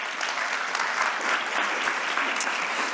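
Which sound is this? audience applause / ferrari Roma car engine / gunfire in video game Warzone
audience applause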